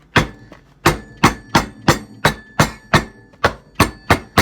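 Ice for a bourbon cocktail is crushed with a hammer: about ten sharp, loud thwacks land close by in a steady, slightly uneven rhythm, with no talking.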